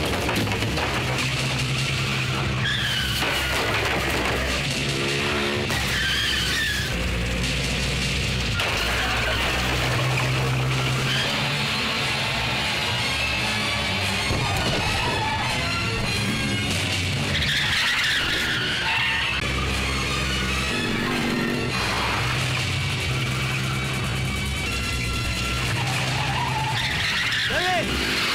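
Car chase in an action film, with tires skidding and squealing repeatedly over revving engines, loud and continuous, mixed with shouting voices and dramatic music.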